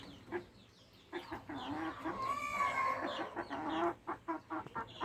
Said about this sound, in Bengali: এই যে মুরগি সব দেশি মুরগি পিওর দেশি মুরগি